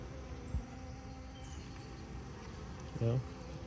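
Steady low insect buzzing from many VSH honey bees, continuous throughout, with a couple of brief louder thumps or bumps near the start and end.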